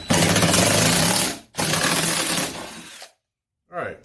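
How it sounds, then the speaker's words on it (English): An impact wrench with an impact socket hammers a bolt out of a failed garage door opener in two loud, rattling bursts, followed by silence and a short spoken voice. "use this impact socket that I have here"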